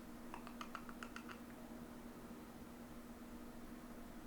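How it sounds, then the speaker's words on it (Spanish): A few quick computer keyboard key presses for the Shift+E shortcut in 3D modelling software, a short cluster of light clicks near the start, then a quiet steady electrical hum alone. "aquí voy a apretar una combinación de teclas que es Shift E"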